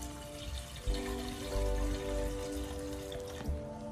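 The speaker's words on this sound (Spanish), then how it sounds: "Lo primero que haremos es colocar un poco de agua en una olla." Water poured into a cooking pot on a kitchen stove, a steady close splashing fill with faint tonal ringing from the pot, lasting a few seconds with no voices.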